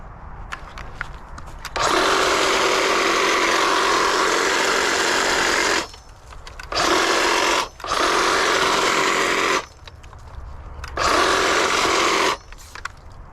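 Stihl HSA 56 cordless hedge trimmer cutting barberry bushes, its buzzing blades loud and close in four bursts of a few seconds each, separated by short quiet pauses.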